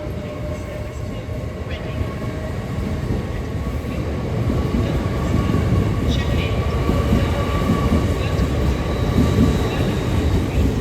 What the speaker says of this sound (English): Departing now is the LNER service off the London King's Cross from Edinburgh Waverley.